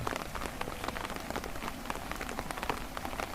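Steady binaural rain falls on surfaces nearby, a dense even patter of drops with no voices, soft and continuous throughout.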